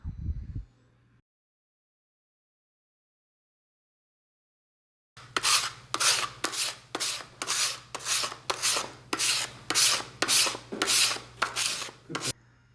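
Sandpaper wrapped around a block of wood scrubs back and forth across rough timber in about a dozen steady, rhythmic rasping strokes after a brief pause, close and clear with a low hum beneath.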